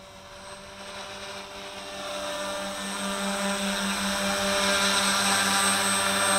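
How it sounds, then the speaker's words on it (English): WLToys V383 quadcopter drone in flight, its propellers making a loud, steady whirring buzz with a tonal whine that gradually grows louder and fuller. "You can hear the power from those props."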